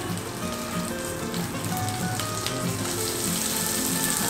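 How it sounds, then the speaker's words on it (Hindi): A dry spice mix for Punjabi rajma masala curry hits hot oil in a pan, giving a loud, even, continuous crackling sizzle like steady rain, close up and with no talking. "तेल मेरा गर्म होने लगा, लगभग गर्म हो गया है। अब मैं इसमें जो सूखा मसाला था ये डालूंगा।"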